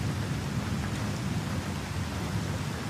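Steady, even rainfall hisses continuously with a low rumbling thunderstorm bed underneath, a dense constant wash with no distinct claps and no voices, suited to sleep and meditation background.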